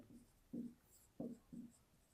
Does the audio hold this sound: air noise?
no